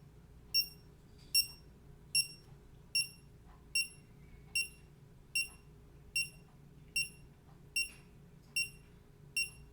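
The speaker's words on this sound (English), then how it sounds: "Okay, so you heard the noise or sound or beeping sound" A MiLi MiTag luggage tracker beeps in a steady, evenly spaced series of about a dozen short, high chirps over a faint low hum.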